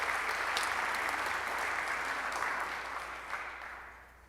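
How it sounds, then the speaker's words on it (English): Members at a Rotary club meeting applaud an award, a steady round of clapping at moderate distance that gradually thins and fades toward the end. "Let's give Jim Yunker a round of applause for receiving that award."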